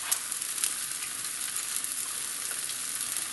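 Chicken thighs with chili powder sizzle and fry steadily in a hot pan, a dense close crackle with faint stirring scrapes and no talk.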